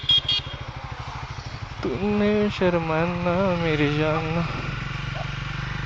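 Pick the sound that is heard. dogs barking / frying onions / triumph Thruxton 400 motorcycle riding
triumph Thruxton 400 motorcycle riding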